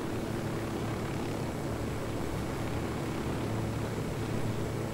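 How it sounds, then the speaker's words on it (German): A rebel helicopter in the video game Ghost Recon Wildlands flies along with a constant, loud, rushing drone of engine and rotor noise that never changes, with no voices over it. "das ist ja ein Helikopter der Rebellen"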